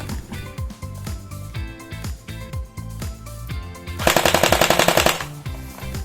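A Tokyo Marui G36C airsoft gun fires close by on fully automatic, a rapid mechanical rattle of shots in bursts that ends with one dense, loud sustained volley.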